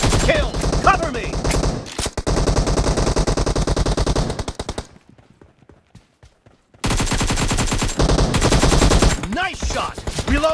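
Rapid, loud machine-gun bursts in the PUBG Mobile video game rattle close and dense, drop to near silence for about two seconds, then resume just as heavily.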